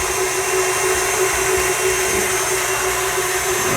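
A stand mixer whipping macaron meringue at speed 6 gives a loud, steady motor whir with a constant hum, close and unbroken for the whole stretch, with no talk.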